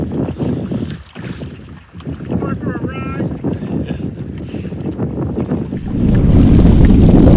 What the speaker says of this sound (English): the wind has picked up. We're kind of rocking and rolling.